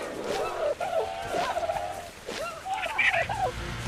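Several gobbling, warbling dodo calls in quick bursts from the video game ARK: Survival Evolved, fairly loud and close, with a game-like background hum.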